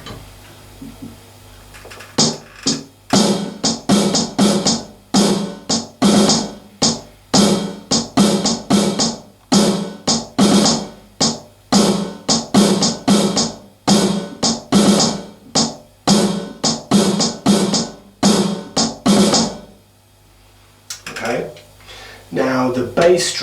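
A drum kit plays a beat slowed right down, with crisp, evenly spaced strokes repeating for about twenty seconds in a quiet room before a short pause.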